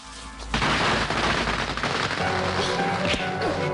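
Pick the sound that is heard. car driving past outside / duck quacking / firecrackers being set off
firecrackers being set off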